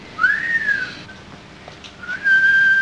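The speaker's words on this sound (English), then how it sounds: "Must be the whistle he swallowed 10 years ago" A comic whistling effect from an old Laurel & Hardy film, meant as a swallowed whistle heard inside a man's body: two rising-then-steady tones, the second longer and louder, with no talk.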